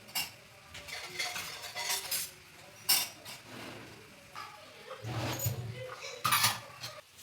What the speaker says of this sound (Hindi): जो थोड़े बर्तन हो गए थे सिंक में, उसको मैं धुल के हटा रही थी